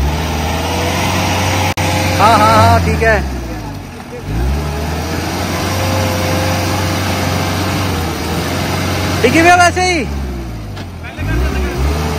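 Mahindra Scorpio 4WD on its first off-road test, an engine droning low and steady with rising and falling revs and whining surges, close by, while people talk over it.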